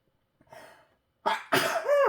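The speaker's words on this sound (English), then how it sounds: "I feel a sneeze coming on and was gonna warn you, but it came too fast." A single abrupt human sneeze, loud and close, follows a faint breathy inhale, with a second burst and a trailing voiced exhale after it.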